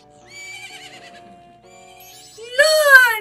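Epona the horse from Zelda: Majora's Mask gives a loud rising whinny near the end, preceded by soft game music tones.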